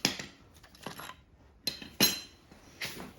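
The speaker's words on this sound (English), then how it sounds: "I'm going to just finish taking this belt off." Metal parts clinking and tapping while the drive belt is pulled off a Simplicity 17GTH riding mower: several sharp, close clanks and knocks spaced irregularly, with quiet gaps between them and no talking.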